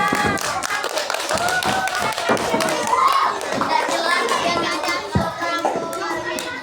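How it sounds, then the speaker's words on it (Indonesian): Children clap their hands together at a school drama competition marking Youth Pledge Day, uneven taps and claps close by, mixed with chattering young voices and an occasional thud. "Tepuk tangan semuanya."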